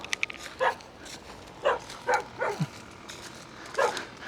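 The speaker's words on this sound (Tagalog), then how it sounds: "Aso." A dog barks in short separate bursts, four or five woofs spaced irregularly, moderately close against a quiet outdoor background.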